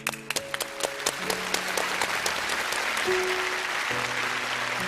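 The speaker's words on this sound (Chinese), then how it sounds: "来，再次给他鼓掌。" A studio audience claps at a televised challenge show, starting with a few scattered claps that swell into a steady round of applause before easing, with music chords sounding underneath.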